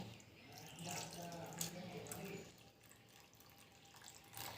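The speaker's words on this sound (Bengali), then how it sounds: "এবার আমি এই জলটা ছেঁকে নিয়ে নেব।" Water pours and trickles through a sieve into a bowl, a soft continuous splash close by that eases off partway through, with faint talking in the background.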